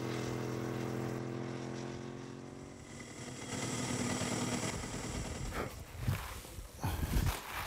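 A race-specification Ducati 748 motorcycle engine sounds on a track, a steady droning note that fades slightly, then rises with rougher revving and bursts toward the end.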